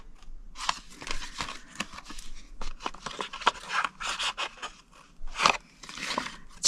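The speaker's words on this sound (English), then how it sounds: "Go to the next 2 score lines and cut them to the second score line." Scissors snip through scored cardstock while a foil chocolate egg window box is made, giving irregular close crisp cuts and paper rustles with no talking.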